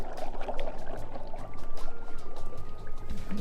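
Ginger ale poured into a rum punch, a continuous trickling pour with a faint fizzy texture running steadily throughout, close and fairly loud, with no talking.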